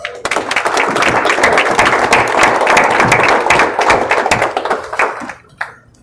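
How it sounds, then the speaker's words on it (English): An audience at a PBA50 bowling championship step-ladder final in Ripon, Wisconsin breaks into loud, sustained applause that swells and holds for several seconds before thinning out into a few scattered claps. "Let's send this championship match off with a big round of applause."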